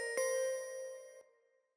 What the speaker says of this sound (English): it's kind of just a bell sound